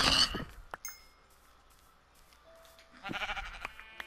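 Sheep bleat in the Minecraft world on PlayStation 4, a couple of short, fairly quiet cries spaced apart over light clinking game sounds, with no talk.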